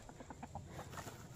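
Soft, faint clucking from a small backyard flock of one rooster and three hens, short repeated calls close by with a low background murmur.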